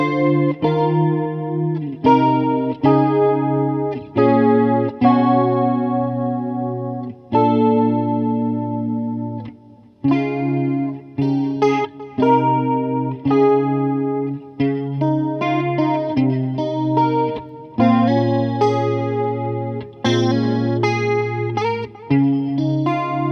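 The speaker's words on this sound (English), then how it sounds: "So there you have it, the Arion Stereo Chorus 1 SCH-1." A clean electric guitar played through an Arion SCH-1 stereo chorus with a delay set high in the mix, giving shimmering, wavering chords and single notes with echoing tails, loud and alone.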